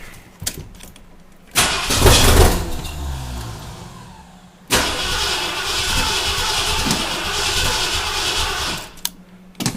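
Rebuilt car engine with a carburetor cranking and trying to start: a loud, rough churning burst around two seconds, then a sustained loud rumbling crank for about five seconds before cutting off, with no talk.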